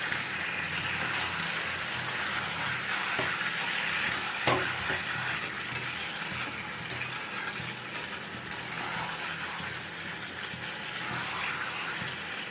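Cumin and ginger paste frying in hot oil, a continuous crackling sizzle with occasional sharp pops and a few stirring clinks, fairly close, no voices.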